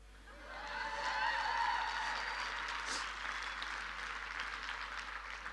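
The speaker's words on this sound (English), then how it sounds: "I need a huge round of applause." An audience at a sales talk breaks into applause that swells quickly, holds as dense clapping, then slowly thins out.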